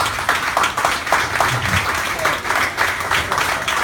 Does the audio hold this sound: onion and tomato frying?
no